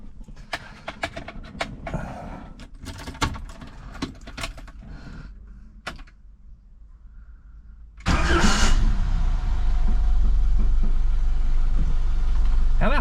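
A Ford TD Cortina engine cranks and fires, catching suddenly into a loud, steady idle that continues close by, after several seconds of clunks and shuffling noises beforehand.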